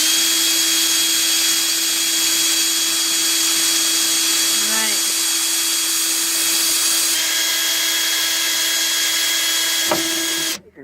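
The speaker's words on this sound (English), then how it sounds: "we're just going to drill a little starter hole right here." A power drill bores a small starter hole in a Jeep fender, giving a steady whining motor tone that holds for about ten seconds before stopping abruptly.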